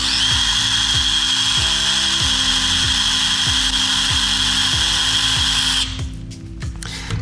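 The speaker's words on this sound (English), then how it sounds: "And I'm just using the weight of the drill." A hand drill spins continuously while deburring the edge of a drilled hole in copper, resting under its own weight, with a steady loud whine and a rhythmic low chatter, until the motor cuts out near the end.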